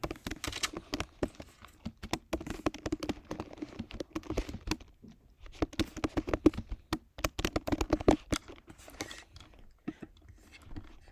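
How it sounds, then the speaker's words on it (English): Quiet, brisk typing on a computer keyboard while entering data into an Excel spreadsheet, with irregular bursts of close key clicks separated by short pauses and no voices. "So, I'm gonna type it."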